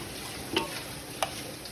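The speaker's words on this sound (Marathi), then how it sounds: "आता कांदा ब्राऊन झाला आहे. आता मी त्याच्यात लसूण अद्रक पेस्ट टाकते" Garlic ginger paste frying with browned onions in a pan gives a soft, faint sizzle, with two brief scraping stirs standing out.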